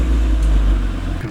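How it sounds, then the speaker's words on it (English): An Audi A3 3.2 V6 Quattro engine runs with a steady, smooth low rumble close by, holding an even tone throughout with no voices. "as soon as you start the engine"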